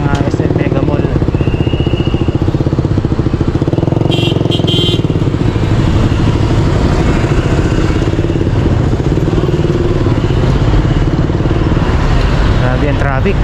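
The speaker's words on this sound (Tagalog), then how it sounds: "Grabe ang traffic." Heavy road traffic near SM Megamall, with motorcycle engines idling and revving close by in a loud, continuous rumble, with people talking over it throughout.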